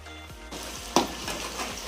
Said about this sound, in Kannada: ಈ ಥರ ಚೆನ್ನಾಗಿ ಬಿಸಿ ಆದಮೇಲೆ ಕಲಿಸ್ಕೊಂಡಿರೋದು ಚಿಕನ್ ಹಾಕ್ತಾಯಿದ್ದೀನಿ